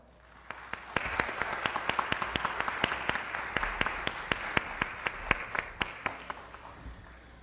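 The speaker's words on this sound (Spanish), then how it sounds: "a quien recibiremos con unas fuertes palmas" Audience applause welcoming a speaker at a university psychology student debate, moderate crowd clapping with a few distinct sharp claps standing out, fairly distant and steady.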